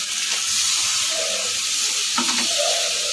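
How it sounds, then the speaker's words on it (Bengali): Spiced jackfruit sizzles and fries steadily in a pan as water is poured in, a continuous loud hiss with brief stirring clinks and no voices. "এবার আমি এর মধ্যে জল দিয়ে দেবো"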